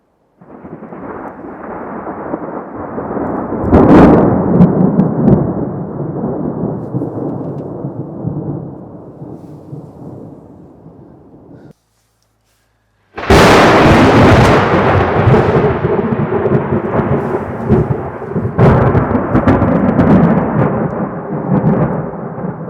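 Thunder from lightning during a storm, long heavy rumbling rolls with sharp cracks; one rumble fades out, then after a brief gap a second, louder crash bursts in and keeps growling, heard from inside a 4x4.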